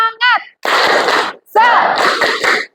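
Children in a classroom give a rhythmic cheer with clapping, their voices shouting in loud bursts separated by short pauses, led off by an adult's call.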